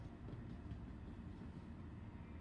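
A train in the video game Star Citizen rolls past with a steady, continuous low rumble and faint rail clatter that holds an even loudness throughout, with no talk over it.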